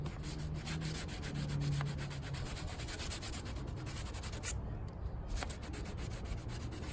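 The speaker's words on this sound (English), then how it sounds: "so we're gonna be sanding that a little bit. I don't know what grit this is, but it feels about a 400" Continuous close scratchy rasping of used sandpaper, about 400 grit, sanding loose raised leather on a boot, steady and even with a brief pause midway.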